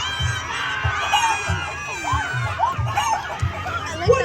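A crowd of children at a farm puppet show imitates a chicken, a loud overlapping chorus of squawking clucks and shouts with a regular thumping beat underneath.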